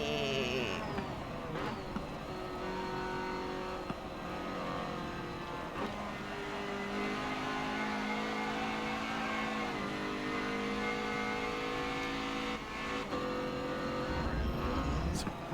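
Race car engine in Forza Motorsport 7 on the Nürburgring, held in 6th gear with no top end, a loud steady drone with layered harmonics throughout, game audio running continuously under talk.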